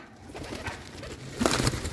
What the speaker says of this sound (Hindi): ये कुछ अंदर अपने कबूतर हैं